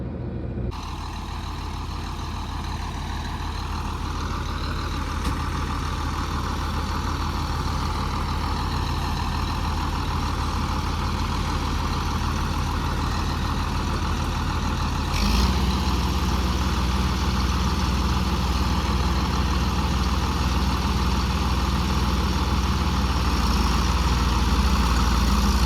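A tractor engine idling steadily for a long stretch, a deep, even diesel rumble that thickens slightly partway through, close and continuous with no voices.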